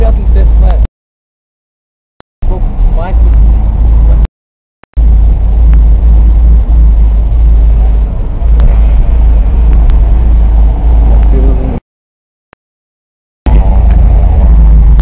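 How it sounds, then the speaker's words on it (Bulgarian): A truck rumbles past a scooter club outing on a Bulgarian road, a loud, heavy low-pitched roar that holds for several seconds and cuts out abruptly in places, with voices talking over it. "Кой е тоя камион, бе?"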